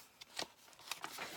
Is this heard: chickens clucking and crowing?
no